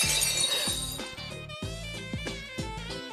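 A clay plate dropped from one metre shatters with a bright crash at the start, followed by lighter clinks of fragments under steady background music.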